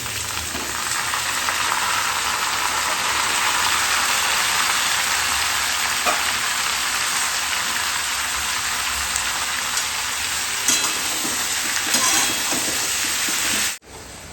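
Prawns sizzling in a pan with boiled potatoes, pumpkin and poppy seed paste: a dense, steady frying hiss that runs close and loud for about fourteen seconds, then cuts off abruptly near the end.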